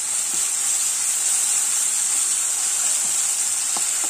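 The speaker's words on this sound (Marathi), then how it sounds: "आलं लसूण पेस्ट ही थोडी परतून घेऊया." Ginger garlic paste fries in hot oil with cumin seeds, making a steady, fairly loud bright sizzle and hiss that holds without a break for the whole span.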